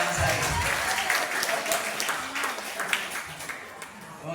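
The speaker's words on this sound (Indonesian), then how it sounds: "Ojo, isin-isinnya ada tepuk tangan untuk Karangsari." Audience at a village competition judging in Karang Sari, South Lampung, applauds with dense, steady clapping that carries on throughout with a faint murmur beneath.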